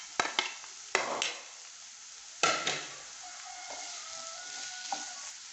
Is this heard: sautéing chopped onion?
yes